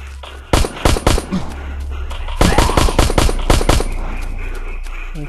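Automatic machine-gun fire in the zombie shooter game Into the Dead 2: two close, loud sets of rapid bursts, a short cluster first and then a longer run, over a steady low game background.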